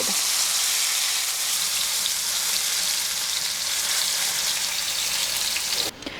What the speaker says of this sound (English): We're going to cook our pork tenderloin about 2 to 3 minutes per side.